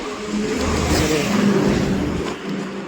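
Fast cars pass on a roadside highway beside pilgrims walking to Shirdi. A single vehicle's engine rises to a loud, close roar, holds, then fades as it speeds past.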